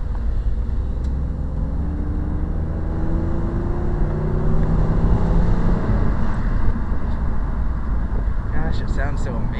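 A 1996 Chrysler Sebring fitted with a new air intake drives along a country road, its engine a steady loud drone with a rising tone as it accelerates, mixed with wind and road noise from inside the car.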